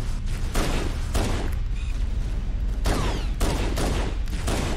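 A frag grenade and bursts of gunfire in Halo: Combat Evolved: several loud, closely spaced blasts and rattling volleys break out one after another over a continuous battle din.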